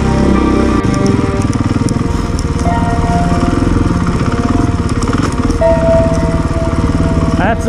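Motorcycle engine on a wet, muddy trail in Denali churns loudly and steadily up close, with a rough, rapid pulsing drone throughout.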